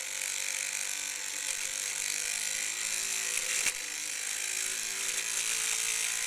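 A small electric toy car motor whirs steadily with a high, buzzing whine, its brushes dabbed with WD-40, running continuously with one brief click partway through.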